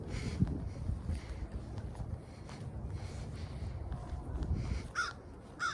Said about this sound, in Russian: Там ворон.